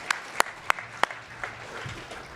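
A few scattered, sharp hand claps ring out at an athletes' awards celebration, about five distinct slaps spaced unevenly before fading into quiet room murmur.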